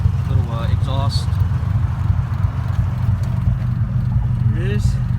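A 2000 Honda Civic Si with a B20 VTEC engine and exhaust running, a loud steady low idle rumble throughout, with someone talking over it at close range.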